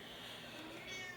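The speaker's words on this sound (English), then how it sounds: "This is the cat that's been yelling the whole time in the background." A domestic cat meows and yells in the background, a faint, drawn-out cry at some distance under a quiet indoor room tone.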